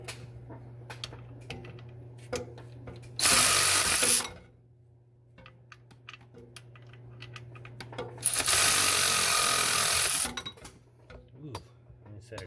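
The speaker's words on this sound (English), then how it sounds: "Remove this bolt here" A ratchet wrench turns a bolt under a vehicle's hood in two fast bursts of rapid clicking, close and loud, separated by quieter handling noises and scattered taps.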